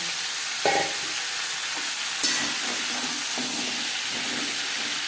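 Potatoes and pointed gourd frying together in a little oil, a constant loud sizzle and hiss with a few clinks and scrapes of a spatula stirring the pan.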